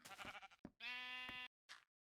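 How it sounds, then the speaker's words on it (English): Sheep bleat in Minecraft: a few close, loud, wavering cries, one long nasal bleat in the middle flanked by shorter calls, with no talking. "these sheep are starting to annoy me so much"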